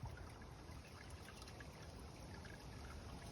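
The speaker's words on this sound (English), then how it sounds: "I'm not sure the flow of the water. Yeah, there we are, it's just a trickle." Garden pond on a Welsh hilltop being fed by a small trickle of water, a steady, soft splashing and burbling that runs close and unbroken with no voices over it.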